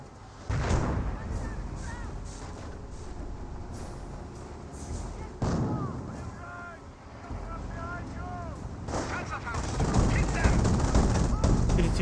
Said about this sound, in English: These forces do receive some autocannon fire.